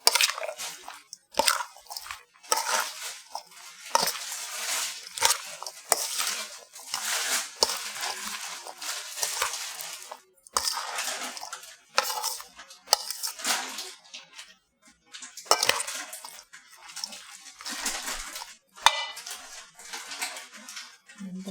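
Peach salsa with garlic chili sauce being stirred in a bowl, giving soft wet squishing and intermittent light clinks of a utensil, close and fairly quiet with brief pauses between strokes.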